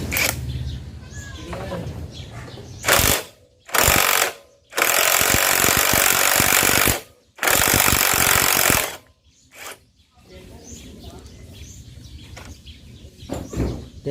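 A tight bolt is loosened with an impact wrench in several loud, rapid hammering bursts of about one to two seconds each, separated by pauses with quieter background sound.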